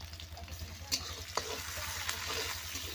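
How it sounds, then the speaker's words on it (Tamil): Onions being stirred and fried in a pan after mustard seeds and cumin, a quiet steady sizzle with a low hum beneath and a few sharp spatula clicks against the pan. "வெங்காயம் சேர்த்துட்டு நல்லா கிளறி விட்டுடலாம்"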